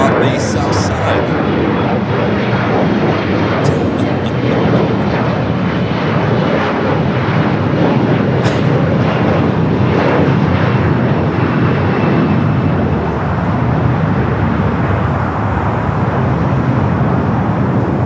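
Airbus A350-900 airliner on approach to land at LAX after a flight from Nadi, its engines a loud, steady broadband roar that holds across the whole stretch, with faint traffic noise mixed in.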